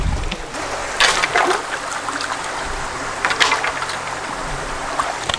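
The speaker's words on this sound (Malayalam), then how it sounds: "ഈ അരുവിയിൽ ഇങ്ങനെ ഒഴുകിക്കൊണ്ടിരിക്കുന്ന ഈ ശുദ്ധ ജലം" A stream of clear water rushes and burbles steadily nearby, loud and unbroken, with a few splashy surges.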